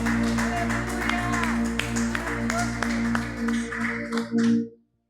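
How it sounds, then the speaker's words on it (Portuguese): A church congregation claps for the Lord during a worship service, a dense patter of applause blended with sustained keyboard music that swells and then cuts off abruptly near the end. "Vamos aplaudir o Senhor mais uma vez?"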